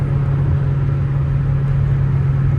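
A 1987 Toyota MR2 engine drones steadily at highway speed, about 80 mph in fifth gear, with a constant low hum and road rumble from inside the car, unchanging and fairly loud.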